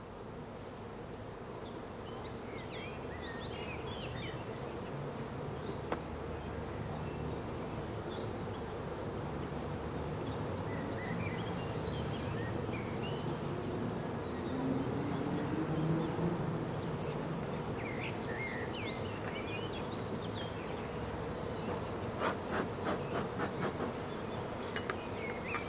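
Honeybees hum around an open hive during queen rearing work, a dense, steady buzz of many insects with individual bees droning past close by, faint and continuous, with occasional light clicks and no talking.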